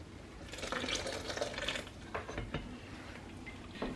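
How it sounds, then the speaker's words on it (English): Water poured into a blender jar while making Instant Pot birria, a brief splashing rush followed by some clinks and knocks from the mixer, close and moderately loud with no talking. "I'm just gonna add a little bit more of the water."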